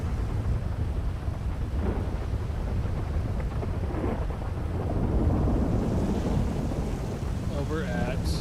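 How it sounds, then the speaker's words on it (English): Outdoors in a thunderstorm, a continuous roar of rain and rolling rumble fill the scene, loud and unbroken, with a faint voice rising briefly near the end. "Ooh, it is really storming out here."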